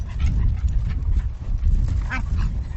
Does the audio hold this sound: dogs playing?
yes